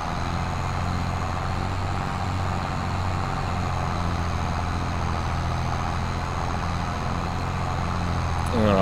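Truck engine idling, a steady low-pitched rumble that holds constant at moderate loudness throughout, with no talking over it.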